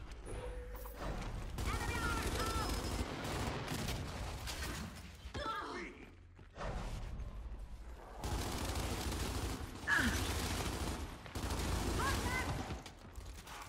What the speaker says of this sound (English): Shoot him, keep shooting him.